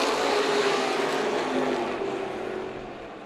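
A modified stock car at Colorado National Speedway spins its tires on the track, a loud sustained engine roar and tire whine that slowly fades as the car pulls away, with no talk over it.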